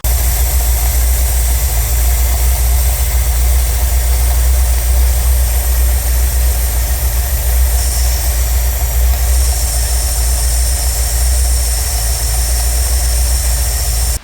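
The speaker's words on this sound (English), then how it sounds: "the carburetor is overfueling slightly, and I'll show a little clip of that I took" A 1978 Ford LTD wagon's engine runs steadily with an overfueling 2100 series carburetor, a loud, close, continuous low rumble with constant vibration and no talk.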